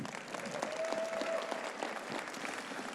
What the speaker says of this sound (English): please a big round of applause for your IFBB Vice President and Head Judge here at the Olympia